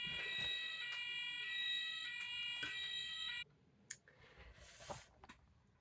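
Fire engine siren wailing steadily in the distance, then cutting off, followed by a few faint knocks and rustles nearby.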